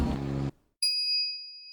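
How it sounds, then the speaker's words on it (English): The phone wave device rings in the Steins;Gate Elite video game, a clear bright electronic ding that follows a brief low tone and a short silence, then holds and slowly fades. "phone wave named Subject to Change rings."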